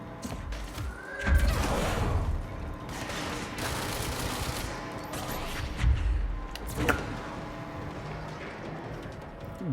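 Gunfire in the action video game Control rattles in dense, sustained bursts with heavier thumps every few seconds, loud and close, without any talking.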